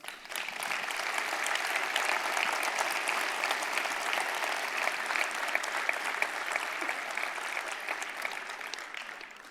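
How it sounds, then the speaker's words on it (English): Audience applause fills a hall at a gaming fanfest opening ceremony, a dense, steady wash of many hands clapping that holds throughout and fades slightly at the end. "Please give yourselves a great applause"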